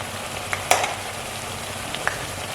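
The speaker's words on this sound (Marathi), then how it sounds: "छान असं फ्राय होऊ द्यायचं आहे." Rice flour chakli fry in hot oil over a medium gas flame, giving a steady, soft bubbling sizzle with a few sharp pops and spatters.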